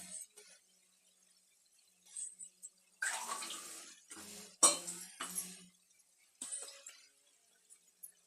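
Water is poured from a glass into basmati rice and vegetable biryani masala in a pressure cooker, in a few short splashing bursts separated by quiet.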